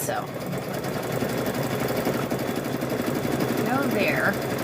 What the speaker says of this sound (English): put it down, and just start stitching. Just start stitching on it.